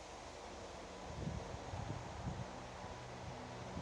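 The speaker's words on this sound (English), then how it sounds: "the wind just really picked up here" Wind gusting outdoors at a campsite strong enough to blow tarps off, a steady broadband rush that swells louder in the middle with low buffeting rumble, no voices.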